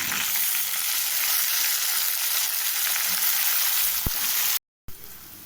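Tomatoes sauté in a pan for a mutton kulambu, giving a steady, close frying sizzle that runs unbroken until a brief dropout near the end and then resumes.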